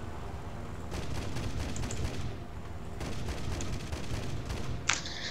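Aircraft cannon fire in the combat flight game War Thunder: repeated rapid bursts of gunfire rattling over a constant engine drone, fairly quiet overall, with a short sharp click near the end.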